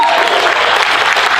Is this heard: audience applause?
yes